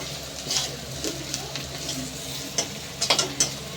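Onion, ginger, garlic, green chilli and spices for a fish curry sizzle and fry in a hot pan with steady crackling, while a utensil stirs and scrapes against the metal in a few sharp clinks near the end.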